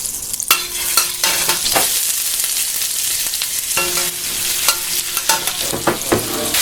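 Mushrooms frying in olive oil in a pan, cooked for a beef and pepper steak dish: a steady, close sizzle runs throughout, broken by repeated sharp clacks and scrapes of a utensil stirring against the pan.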